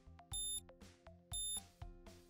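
A Memory-Loc datalogging traceable hygrometer alarm beeps in repeated bright bursts, with short tones and clicks between them, fairly quiet overall.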